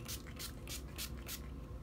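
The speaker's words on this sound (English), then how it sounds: "I'm going to spray Mario Badescu facial spray with aloe herbs and rose water." A Mario Badescu facial mist with aloe, herbs and rose water is sprayed in a steady series of short, soft hissing pumps, about six bursts close by over a quiet background.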